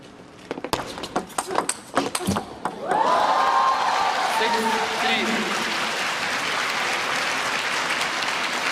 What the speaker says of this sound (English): Maverick applauds.